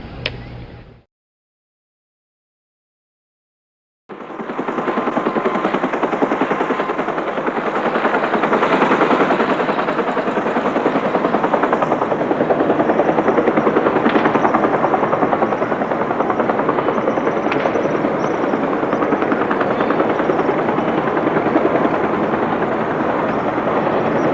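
A brief muffled sound, a few seconds of silence, then a steady loud thrumming helicopter rotor at a rooftop platform, holding constant for a long stretch.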